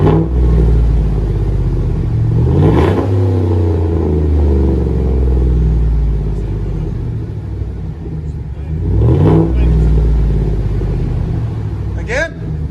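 A Chevy/GMC 5.3L V8 with a single straight-pipe exhaust rumbles loudly and steadily up close, swelling with a couple of revs, while people talk over it.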